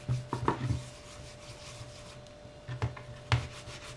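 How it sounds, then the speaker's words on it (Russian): Chunks of pork fat (salo) being rubbed with salt by hand, soft close scraping rubs in a few short bursts separated by quiet pauses, with a faint steady hum underneath. "по чуть-чуть соли и натираем."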